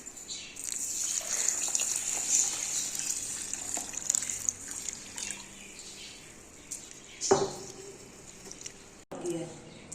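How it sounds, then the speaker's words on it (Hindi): Soaked grains and lentils for haleem are washed in water, with a bright hiss of running or splashing water through the first half, then quieter handling and a couple of sharp knocks near the end. "और उन्हें अच्छी तरह से धो के वॉश करके भिगोने के लिए रख देंगे।"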